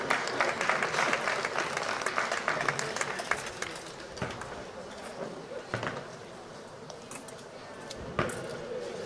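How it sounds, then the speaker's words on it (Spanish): An audience at a falcata and spear combat reenactment applauds, the clapping loud at first and then thinning, with a few sharp knocks and thuds and some voices mixed in. "así que un aplauso por ser más alto"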